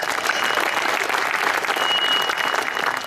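An audience at a Hindi poetry gathering in Ambikapur claps steadily, a dense wash of applause from many hands that stays even and unbroken throughout.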